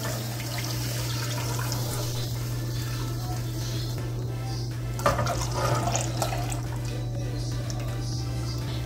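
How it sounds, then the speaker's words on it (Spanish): Whole milk poured into a small pot over medium heat makes a steady liquid wash over a constant low electrical hum, with a brief clatter partway through. "voy a comenzar agregando en una ollita a fuego medio 2 tazas de leche entera"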